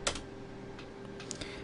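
Keys pressed on a Windows computer keyboard, a few sparse clicks at a close distance over a steady faint hum, with no talking.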